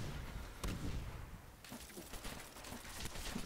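Rapid bursts of Rapid Fire Pistol gunfire in Call of Duty custom zombies crackle in quick succession, dense and punchy, with a sharp report standing out early amid continuous shooting.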